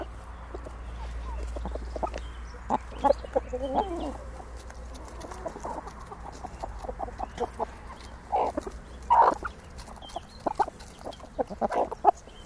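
Chickens cluck softly and steadily while pecking at dried mealworms close by, with scattered short calls over a low rumble and a brief spoken word.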